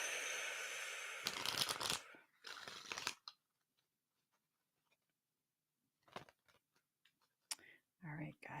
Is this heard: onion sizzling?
no